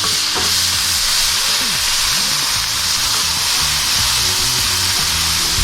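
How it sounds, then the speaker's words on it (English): Homemade chorizo sizzling and frying in a pan with a steady, loud crackle and hiss, close up, with occasional stirring or scraping sounds and no talk. "I'm just gonna slide these on the side and cook up our chorizo"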